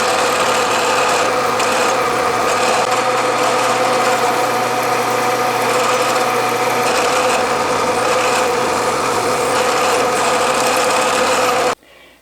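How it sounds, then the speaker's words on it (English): A milling machine drills a hole for a Powermatic lathe tool rest, its motor and spindle humming steadily and loudly throughout, with a deeper grinding tone as the bit cuts midway before the machine stops abruptly at the end. "I'll move into position and drill the other hole"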